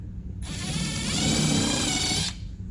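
A power drill widening a mounting hole for a mud flap insert on a 2012+ Tesla Model S, a single steady whirring burst of about two seconds, close and fairly loud, with no speech.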